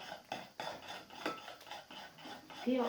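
Thick purple slime stirred in a bowl gives wet, squelching scrapes in an irregular rhythm, with small clicks of the utensil against the bowl, close and fairly quiet.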